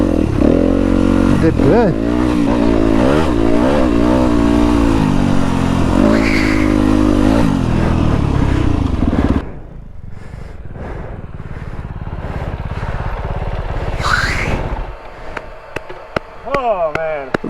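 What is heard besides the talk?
Kove FSE 450 R Rally motorcycle on steep loose climb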